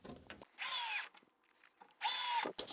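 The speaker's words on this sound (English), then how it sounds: "Now let's install the screws." A power drill drives 6 by 1 5/8 yellow zinc wood construction screws in two strong whining bursts, each about half a second long, separated by a short quiet pause, close and loud.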